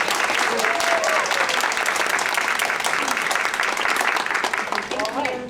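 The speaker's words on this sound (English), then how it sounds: "give a round of applause to PDAC" Dense, steady applause from a conference audience honoring the PDAC committee at a women in project management event, loud and unbroken for several seconds before easing slightly at the close.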